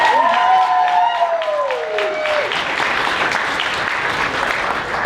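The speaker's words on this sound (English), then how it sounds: "So everyone, please give yourselves another round of applause." An audience at an anime convention masquerade awards applauds the costume contestants; sustained tones ring out at first, then dense crowd clapping with some cheering builds and carries on loud to the end.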